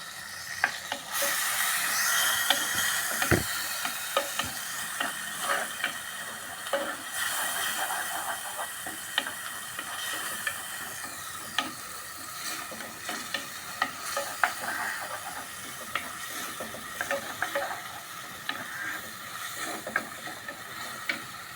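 Green peppercorns, onion and tamarind stirred in a hot pan, a continuous sizzling hiss broken by frequent ladle scrapes and clinks against the metal, close and steady with nobody speaking.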